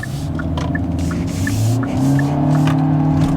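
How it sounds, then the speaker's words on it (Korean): A Hyundai Elantra with a 1.6 naturally aspirated engine and CVT transmission, driven on a winding road test: a steady engine drone climbs in pitch as it revs under load, with road noise throughout and no talk. "이렇게 CVT 변속기 자체가 소리가 엄청 올라가서"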